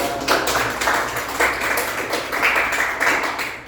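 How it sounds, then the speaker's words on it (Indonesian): A class of students claps together in a classroom during a teaching session, with bursts of fairly rhythmic handclaps that are loud and close and carry on steadily with no talking over them. "Oke, tepuk tangan dulu dong."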